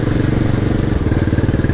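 Royal Enfield Bullet 500 motorcycle on the move, its single-cylinder engine thumping in a loud, rapid, even pulse heard up close.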